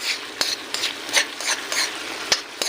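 A spoon stirs sardines cooking with tomatoes in a pan, scraping in repeated close strokes over a steady soft sizzle, with no voices.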